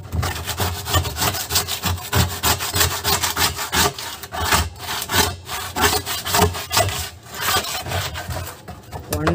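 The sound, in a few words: scrubbing paint off a plastic water drum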